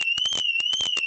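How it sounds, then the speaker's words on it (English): BMW car alarm going off in Pomona, a loud steady electronic tone with rapid pulsing chirps layered over it, heard close and continuous. "the Beamer car alarm is going off"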